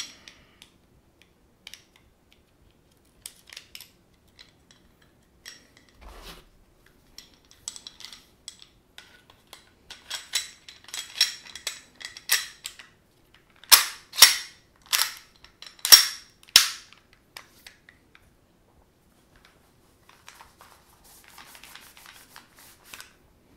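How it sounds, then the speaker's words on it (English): Clicks, snaps and sharp metallic clacks from a VFC/Stark Arms Glock 17 airsoft pistol being put back together, sparse at first, then a burst of loud slide and frame clacks midway before fading to light handling noise. "Let me reassemble the pistol"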